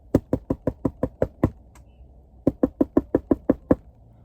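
Knocking on the inside of a morgue fridge door: two bursts of sharp, evenly spaced raps, about eight then seven knocks, separated by a short pause, loud and close with no talking.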